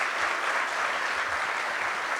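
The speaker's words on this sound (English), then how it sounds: "Give a round of applause once again." Audience applause for storytellers at an immigrant storytelling show: a loud, even burst of many hands clapping, close and continuous for a couple of seconds.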